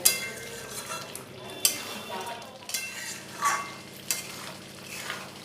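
Chicken masala with crushed kasuri methi is stirred and fried in a pan, giving a close, even sizzle punctuated by repeated metal spatula scrapes and knocks against the pan.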